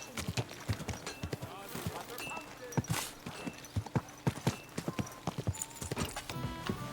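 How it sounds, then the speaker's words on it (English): Horse hooves clip-clop steadily at a walking pace in the medieval Kingdom Come: Deliverance II game, close and clear, with a brief whinny and a voice speaking alongside the rhythmic steps. "Easy, good horse."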